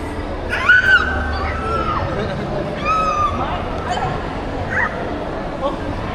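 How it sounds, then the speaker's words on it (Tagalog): Dogs bark and yip in a couple of short bursts at a distance, with a whimpering note, over a steady murmur of people talking in a room on Christmas Day. "Those are dogs."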